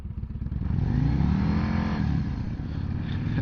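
A 2024 Harley-Davidson Road Glide motorcycle rumbles steadily while being ridden, its deep engine drone loud and close throughout, with a slight rise in pitch as it moves off.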